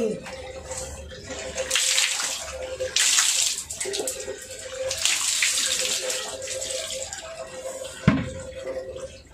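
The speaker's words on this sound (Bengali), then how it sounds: "আমার না এইভাবে জল দিতে যে কি মজা লাগে।" Water is poured out and splashes in bursts, several gushes with gaps between them, with a steady background hum and a sudden knock near the end.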